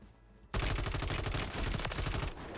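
Rapid automatic fire from a WSP-9 submachine gun in Call of Duty: Warzone, a loud, dense burst that starts after a brief quiet moment and rattles on steadily for about two seconds with no talk.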